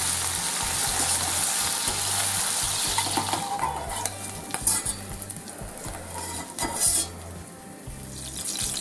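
Rinsed and drained capers fry in a pan, for an insalata with baby octopus and sun-dried tomatoes. They crackle and sizzle steadily up close, with occasional spoon scrapes and light clinks of stirring.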